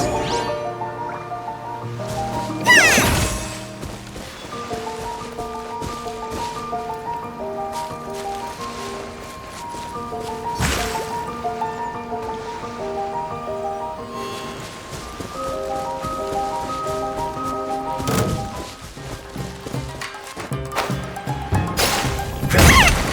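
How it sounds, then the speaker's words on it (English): Explosions in the video game Genshin Impact: a few sharp, loud booming crashes spaced several seconds apart, ringing out over steady background music. "The explosion was roughly the size I expected."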